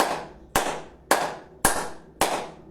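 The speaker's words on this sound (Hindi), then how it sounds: "तालियां बजाएं" Five sharp hand claps ring out one at a time at an even, unhurried pace, close and crisp, each fading quickly before the next, with nothing else heard.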